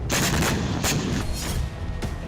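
Loud, dense burst of blasts and crackling from war footage of a strike on armored BMP vehicles, with several sharp impacts over a continuous roar, like an explosion followed by gunfire or secondary detonations.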